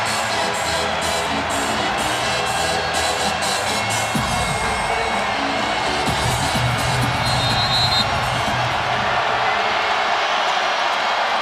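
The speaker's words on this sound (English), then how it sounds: "You can bet this sellout crowd is going to let them hear it." A sellout crowd roars during the final possession of a women's basketball game between NC State and Virginia Tech, a loud, sustained wall of cheering with scattered whoops and shouts that swells and never lets up.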